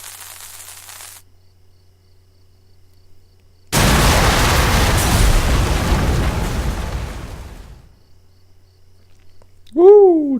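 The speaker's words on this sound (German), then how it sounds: "Das war eine Explosion, ne?" After a quiet stretch, a sudden loud explosion in the video game Sherlock Holmes: Crimes & Punishments erupts and roars for several seconds before cutting off, followed by a short rising vocal exclamation.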